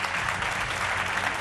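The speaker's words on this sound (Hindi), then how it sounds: "तालियों के साथ उनका स्वागत कीजिए।" Studio audience applause welcoming guests on a Hindi television political debate show, a steady dense wash of clapping held at even loudness for a short burst with no voices.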